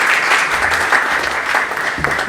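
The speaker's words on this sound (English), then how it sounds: "So another round of applause for both of them." Lecture-hall audience applauding two presenters, a dense, steady round of clapping at close range lasting the whole moment without speech.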